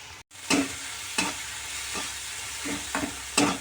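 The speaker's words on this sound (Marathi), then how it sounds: "मस्त असं छान ह्याला आपल्याला छान परतून घ्यायचे।" Soaked puffed rice (murmure) with turmeric and salt sautéing in a pan, a steady sizzle with several distinct scraping stir strokes at intervals, close and without voices.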